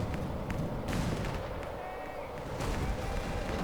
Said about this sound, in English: We call an airstrike on them and just win